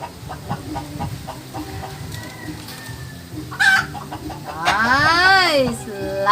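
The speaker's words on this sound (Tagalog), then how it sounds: "Ating mga manok." Chickens clucking and a rooster crowing near a backyard where a houseplant is being repotted, with scattered clucks early and a loud crow rising toward the end, partly under light talk.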